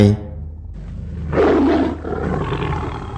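A tiger sound effect in a narrated folk tale: one loud, close roar that swells and then trails off into a lower growl, with no voices.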